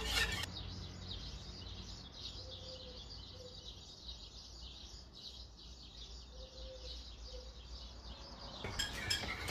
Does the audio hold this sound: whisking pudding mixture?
yes